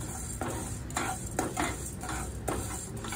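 Lentils are dry-roasted in a pan for a moringa leaf chutney, a spoon scraping and stirring in regular strokes against the metal with a soft sizzle underneath.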